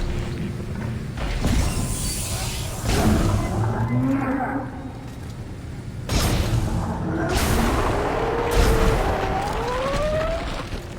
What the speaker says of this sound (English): Forgot about you, Mr. Exploding McGee.